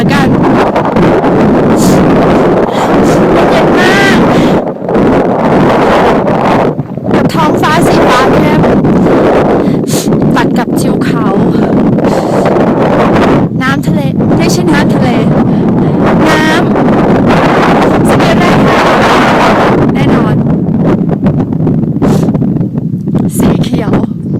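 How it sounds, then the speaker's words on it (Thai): Strong, gusting wind buffeting the microphone at a wide open lake on a Uyuni trip, a loud continuous roar that nearly swamps someone talking throughout. "ลมจะแรงนิดนึงอาจจะไม่ค่อยได้ยินเสียงเท่าไหร่"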